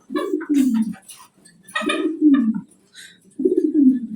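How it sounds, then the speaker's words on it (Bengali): Large Modena pigeons cooing nearby, three deep rolling coos spaced evenly apart with faint clicks and rustles between them, no talking. "আমার এখানে আছে মডেনা কবুতর বিশাল সাইজের মডেনা কবুতর"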